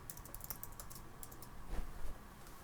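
Rapid, irregular tapping of keys on a computer keyboard while title text is typed, light and close, with no talk.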